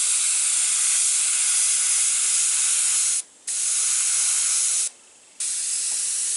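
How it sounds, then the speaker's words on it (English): An airbrush sprays paint while painting eyes, a loud continuous hiss that cuts off briefly twice as the trigger is released, then resumes. "I'm gonna spray it a little heavier towards the center"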